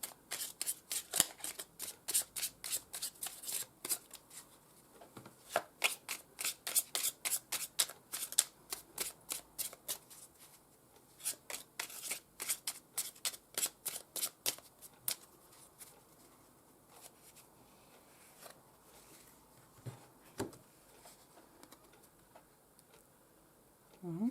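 Tarot cards being shuffled at close range, bursts of rapid riffling clicks repeating through the first fifteen seconds, then sparser taps and slides of the deck with quiet pauses in between.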